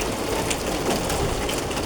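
Rain falling outside a window, a steady, even hiss of dense drops that holds at a constant level throughout with no talking.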